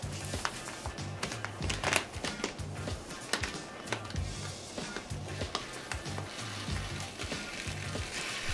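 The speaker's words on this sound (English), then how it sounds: "We're going to fill it up with rice." Dry rice pours and patters into a thin ski sock in a continuous gritty rush, close up, with small rustling crinkles of fabric throughout.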